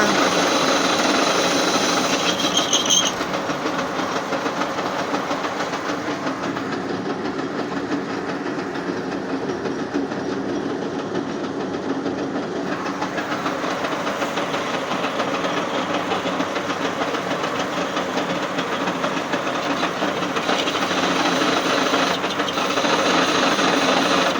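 A 1D601 lathe turning a faceplate and taking 2 mm deep cuts, its steady mechanical whir and grinding cut noise running continuously at close range with no talk.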